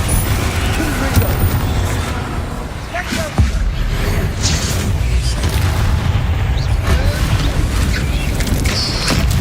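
Confringo blasting spell explosions in Hogwarts Legacy, heavy booming impacts and rumble layered in a dense, loud combat mix with continuous clatter throughout.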